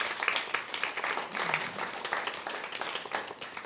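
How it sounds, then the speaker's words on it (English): A congregation gives a round of applause after a band's song at a service, steady moderately loud clapping filling the room without a break, no speech over it. "How about another round of applause?"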